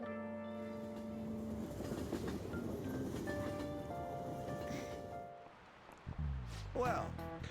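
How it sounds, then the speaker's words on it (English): A train in the video game Persona 5 Royal rumbles into a station as a steady, rising rush, mixed with sustained chime-like tones and background music, then fades into a quieter pause before clunky mechanical sounds. "Oh, looks like the train's coming."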